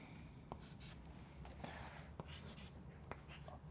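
A pen drawing a line on paper while sketching a locus diagram for an electrical engineering exercise, with quiet scratchy strokes and a few light taps in a hushed room.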